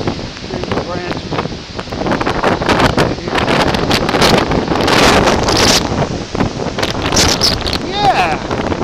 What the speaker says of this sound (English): 65 mile an hour wind.